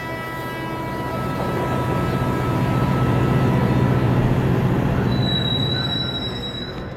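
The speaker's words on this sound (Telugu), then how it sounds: "ట్రైన్ వచ్చేసిందమ్మా" A passenger train pulls into a station, its wheels grinding and squealing in long, high metallic tones over a heavy rolling rumble that swells in the middle and eases as it slows. No voices.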